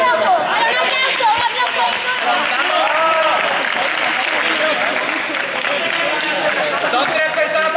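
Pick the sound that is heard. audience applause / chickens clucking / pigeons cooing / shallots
audience applause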